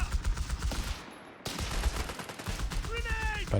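A Vickers heavy machine gun in the video game Company of Heroes 3 fires rapid bursts of rattling shots, with a short pause midway and other battlefield gunfire and a brief whistling sound mixed in.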